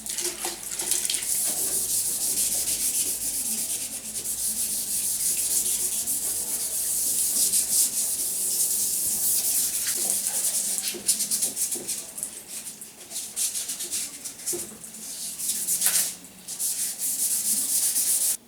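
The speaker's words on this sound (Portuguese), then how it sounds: "agora essa lixa 600 tem que finalizar aqui o acabamento do lixamento" Hand sanding of primer on the side panel of a Toyota Hilux Turbo body with 600-grit sandpaper, a continuous close, hissy scraping rub with shifting strokes and occasional brief knocks.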